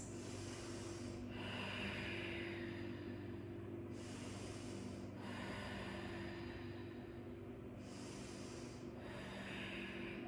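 Slow, deep breaths drawn through the nose while holding a yoga pose: three soft inhale-and-exhale cycles, close and steady, with no talking.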